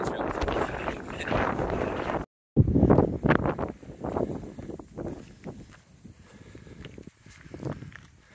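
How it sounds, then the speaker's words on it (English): Strong gusty wind batters the microphone in loud rushes with a brief dropout at the Oat Mountain trailhead, while a person talks and footsteps crunch underneath. "super windy here at the Oat Mountain, beginning of the trail."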